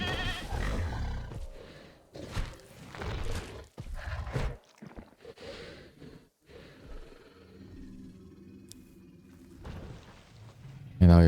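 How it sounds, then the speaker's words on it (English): A goat bleats in Jurassic World Evolution as a dinosaur attacks it, with loud strained cries and heavy bursts of impact and roaring noise, then a quieter stretch. "Oh, that goat doesn't stand a chance."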